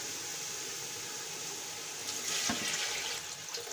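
Water pours steadily into a cooking pot of cabbage and rice for biryani, a continuous rushing splash that swells briefly near the end.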